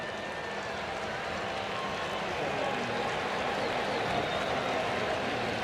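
A baseball crowd at Target Field roars in a steady, dense wash of cheering through a Twins home game against the Yankees, sustained and broad with no break.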